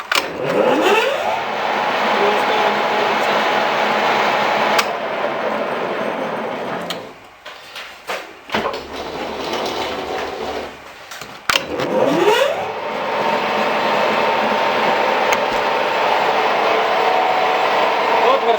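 A 1A616 metal lathe running on 220 V hums steadily, cuts out briefly and spins back up when switched to reverse, with a voice speaking faintly in between.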